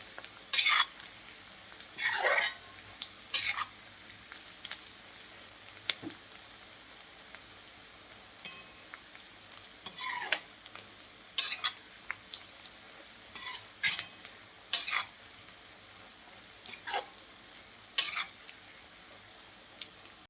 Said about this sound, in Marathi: सगळ्यात आधी मी बदाम तळून घेणार आहे